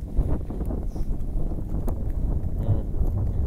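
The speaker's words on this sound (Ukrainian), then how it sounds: "Правда, вітер." Steady low rumbling buffets of wind hitting the microphone, loud and continuous throughout, with no talking.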